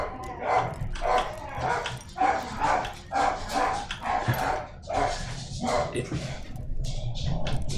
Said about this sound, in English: Oh great, my dog's barking.